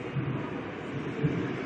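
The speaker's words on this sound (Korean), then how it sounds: "지하철이 고속터미널역에 닿습니다." A subway train rolls into Express Bus Terminal station in Seoul, a low steady rumble of wheels and car noise with a few louder bumps and no clear speech.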